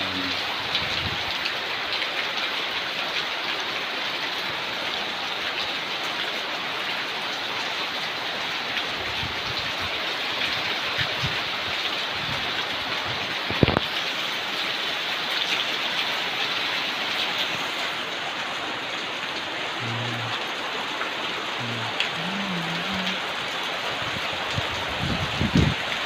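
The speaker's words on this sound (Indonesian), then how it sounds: "Suaranya hujan." Heavy afternoon rain pours steadily onto surfaces, a dense continuous hiss with scattered drops and a faint thud midway, close and unbroken throughout.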